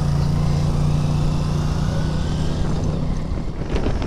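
Honda TMX Supremo motorcycle cruising on a provincial bypass road in Nueva Vizcaya, its engine a steady close drone with a low hum and wind rush, easing slightly near the end, with no talking.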